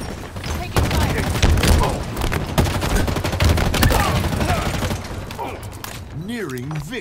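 Dense automatic gunfire and explosions in Halo Infinite multiplayer, loud and continuous, with radio-style game voice callouts over the shooting before it thins out near the end.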